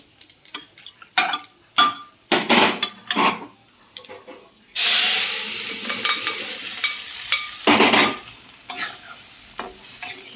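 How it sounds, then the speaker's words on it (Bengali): Radhuni spice and ginger dropped into hot oil: scattered clinks and scrapes of stirring, then a sudden loud sizzle bursts up and hisses continuously, with further stirring taps over it. "এবারে এর মধ্যে আমি রাঁধুনি ফোড়ন দেবো। দেখো আদাটা এর মধ্যে দিয়ে দেবো।"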